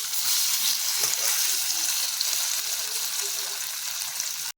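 Pieces for a vegetarian fish-style dish sizzle steadily in hot oil, a dense continuous frying hiss that holds level for the whole stretch with faint clinks underneath.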